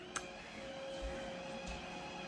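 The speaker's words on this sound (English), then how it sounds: "the Roomba is trying to clean this super shaggy, I think that's what it's called, carpet" A Roomba robot vacuum works over a super shaggy carpet, giving off a quiet, steady motor hum with a thin whine, a sharp click near the start and soft low bumps.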